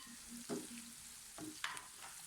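Soft, steady sizzling of onions and garlic frying in a pan, with a few faint scrapes of a spoon stirring.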